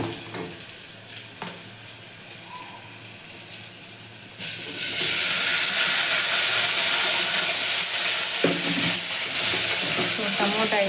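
Tomatoes hitting hot oil with fried onions and ginger garlic paste for tomato rice burst into a loud, steady sizzle after a few quiet clinks, hissing on without pause to the end.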